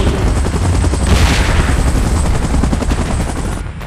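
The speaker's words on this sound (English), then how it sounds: "Chopper in position. Please evacuate immediately." A helicopter in the PUBG video game, a loud continuous rotor thrum with dense chopping pulses and bursts of gunfire-like noise mixed in, staying close and intense throughout.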